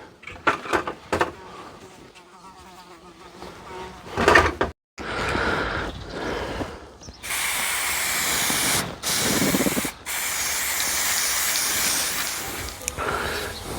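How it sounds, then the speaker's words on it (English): An aerosol can sprays sealer clear coat onto a costume prop machete. Short hissing bursts come first, then long, steady close-up sprays with brief pauses between them, and no one talks. "So I'm just going to give it a spray of sealer."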